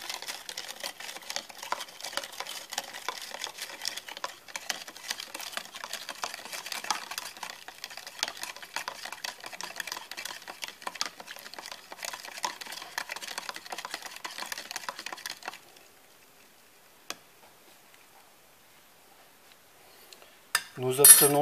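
A spoon clinks and scrapes steadily against a container while stirring sugar into water in a chemistry demonstration, a busy rapid rattle that stops abruptly, followed by near silence and a brief knock at the end.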